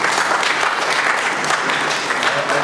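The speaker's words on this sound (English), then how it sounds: "Please give these 3 people a round of applause." An audience at a panel discussion on art, culture and tourism at the Kampala Art Biennale 2014 gives a loud, sustained round of applause, with dense overlapping claps and no speech over it.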